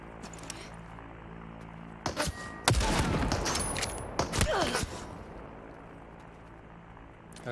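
Gunfire coming from above in the battle royale video game Super People, heard as a dense burst of shots and impacts after a quiet stretch, with a few sharper cracks near the end and no talking.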